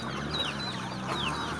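A large, speckled rooster clucks softly a few times in a quiet outdoor setting, short chirpy calls over a steady low hum.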